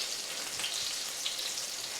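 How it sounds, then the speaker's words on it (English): Steady, bright sizzling of flat iron steak in a hot pan, a close, continuous crackling hiss with no talking. "you're going to hear that sizzle"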